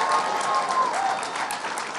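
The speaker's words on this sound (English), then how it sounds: "Let's give him a round of applause." A college crowd at Buffalo State applauding for the mayor, a dense, continuous roar of clapping that stays loud and even throughout.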